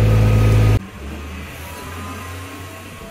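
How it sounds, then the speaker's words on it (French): An Audi TT engine, a loud steady roar cutting off abruptly into a low idling hum close by, with no talk. "Mon nouveau véhicule, une Audi TT, comme je voulais."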